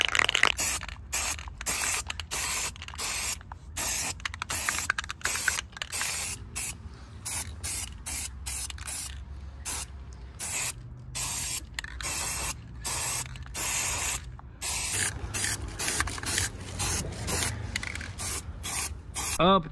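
Primer sprays from an aerosol can onto car brake drums, short hissing bursts repeating in a quick on-off rhythm with faint handling scrapes between them.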